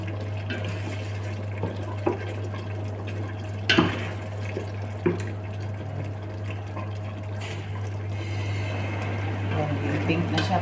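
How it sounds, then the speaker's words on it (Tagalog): Milk pours into a pan of pink pasta sauce with chicken in a steady, soft liquid stream over a constant low hum, with a few brief clinks along the way. "Saka natin lagyan ng gatas."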